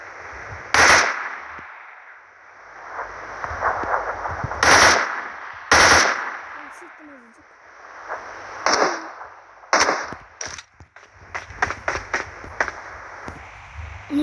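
Gunfire in a shooting video game: several loud, sharp bursts of shots spaced irregularly, with quieter clicks and rapid shot rattles between them, close and with no speech.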